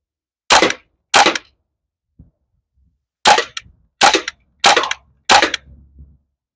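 Crosman M1 full-auto airgun firing outdoors: six sharp, loud cracking shots in two spaced groups, a pair then four in quick succession, each snapping off cleanly with a faint ring after, no voices.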